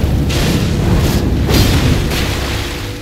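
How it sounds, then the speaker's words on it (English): Heavy, booming impacts from a charge attack in Elden Ring, a loud, sustained rumble with a few surging crashes over about three seconds and no voices. "Nice charge attack on him."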